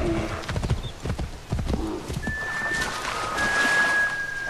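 A horse galloping in Assassin's Creed 3, hooves drumming in a rapid uneven clip-clop that fades into rushing wind and movement noise, with a thin whistling tone layered over the hoofbeats; no talking.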